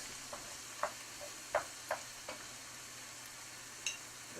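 A spoon stirs flour into a frying mushroom mixture, giving a faint, soft sizzle with several distinct scraping knocks at uneven intervals, close but quiet.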